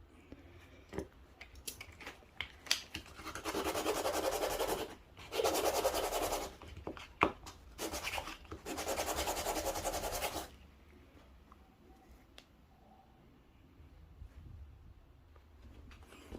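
Steady rasping scrapes of sandpaper rubbing against a Mavic freehub body bushing, in bursts with short pauses, then quieter handling near the end.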